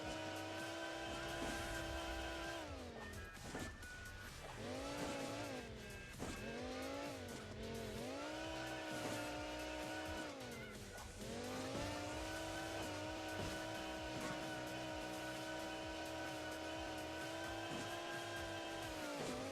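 A car engine strains and revs hard in Hill Climb Racing 2, a Formula-style racer, its tone rising and falling in long labored sweeps with brief dips, loud and continuous with tire squeal and no talking.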